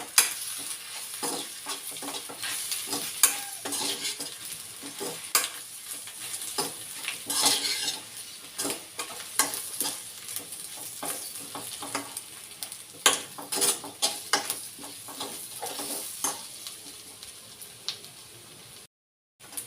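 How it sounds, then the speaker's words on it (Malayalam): Pasta in tomato ketchup sauce stirred in a pan, a utensil scraping and clinking against the metal in irregular bursts over a steady low sizzle, close and fairly loud, stopping abruptly near the end. "നമുക്ക് നല്ലപോലെ മിക്സ് ചെയ്ത് കൊടുക്കാം"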